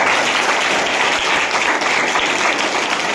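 A crowd at a school cluster gathering in Gadarpur bursts into loud, dense applause that holds as a continuous roar of clapping throughout, with no voices on top.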